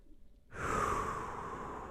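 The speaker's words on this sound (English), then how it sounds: "And breathe here." A person resting in yoga child's pose, knees wide and forehead down, takes a soft, slow breath that starts after a short silence and trails off gently, close and quiet.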